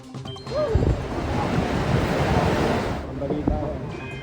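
Strong storm wind roars in a steady blustery rush with a hiss of heavy rain, while voices are heard faintly in the background.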